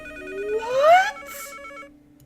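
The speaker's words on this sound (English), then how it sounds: "Oh, and the phone's ringing." Telephone ringing in a Nancy Drew point-and-click game, a single electronic ring burst with a rising sweep, fairly close and clear over quiet background music.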